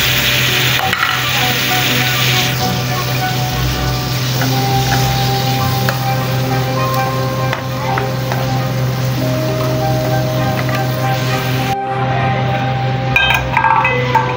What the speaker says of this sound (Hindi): अभी इसमें टमाटर और सब्ज़ मिर्च ये डाल दिया